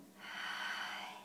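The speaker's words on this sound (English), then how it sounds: "Open your mouth," One long, breathy exhale through an open mouth during a guided yoga breathing exercise, close and steady, rising and then slowly fading over about a second.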